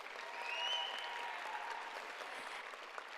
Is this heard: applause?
yes